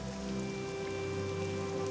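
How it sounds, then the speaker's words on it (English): Steady rain falls in the video game Morrowind, a continuous even hiss of drops on surfaces heard alone with no speech, filling the whole stretch at moderate level. "the fucking rain didn't even have the decency to stop before I made it out from my little tomb looting excursion"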